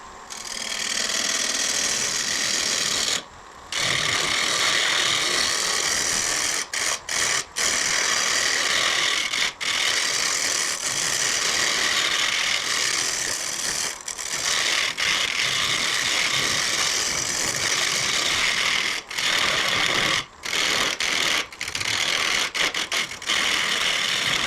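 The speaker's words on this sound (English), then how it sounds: "So I'm going to switch to a bowl gouge here." A bowl gouge cuts mesquite on a spinning wood lathe for a hollow form, a loud continuous rough scraping whir broken by several brief gaps where the tool lifts off the wood.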